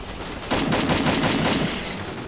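Rapid bursts of automatic gunfire in the battle royale game Free Fire, a dense rattling volley that starts abruptly and holds steady for about two seconds, loud and close with no talk.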